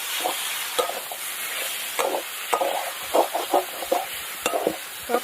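Spice paste of turmeric, ginger, dried red chilli and green chilli is stirred in a hot wok: close scraping and stirring strokes in an irregular rhythm over a steady frying sizzle.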